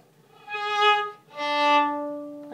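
Two up-bow notes on a viola, each swelling in and fading like a swoosh, the second held longer; close and clear with no talking.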